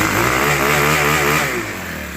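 A Troy-Bilt TB6044XP tiller engine idles steadily up close with a loud, even, rumbling putter that eases slightly near the end. No voices are heard.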